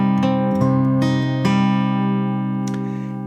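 A fingerpicked acoustic guitar plays a song's pattern, alternating thumb bass and finger-plucked treble notes in a short, even phrase that rings out close and clear.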